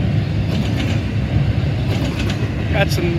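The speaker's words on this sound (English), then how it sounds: "see this westbound intermodal here, Deshler" A westbound intermodal freight train passing at Deshler: steady heavy rumble and rhythmic wheel clatter up close, with a short metallic squeal near the end and a voice speaking briefly over it.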